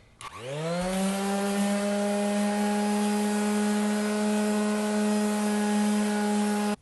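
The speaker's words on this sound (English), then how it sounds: "So I've got the 120 grit sandpaper in here now." A Skil 4-in-1 sander fitted with 120 grit sandpaper, sanding wood filler: a motor spins up in the first moment and then holds a steady, loud, tonal whine with an abrasive rasp, running alone until it cuts off at the end.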